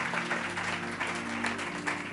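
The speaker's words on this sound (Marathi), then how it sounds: "जरा जोरदार टाळ्या प्रभूच्या देवासाठी" A congregation at a Marathi church service breaks into sustained applause, a continuous, moderately loud wash of clapping with a low hum underneath and no talking over it.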